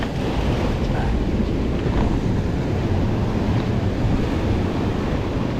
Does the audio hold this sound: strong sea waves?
yes